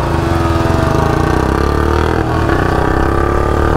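A Royal Enfield Bullet 350 and a Yamaha R15 V4 race side by side in a drag run, their engines roaring loud and steady at high revs with a brief dip midway.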